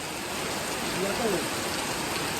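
A dense, even hiss of monsoon rain falling continuously in the Konkan region, with a faint voice briefly audible underneath.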